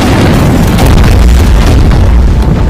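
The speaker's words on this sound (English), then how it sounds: "Dude, he's literally shooting missiles." Heavy, booming missile explosions from a Roblox Choo Choo Charles game in nightmare mode, loud and dense with deep rumbling blasts filling the whole stretch.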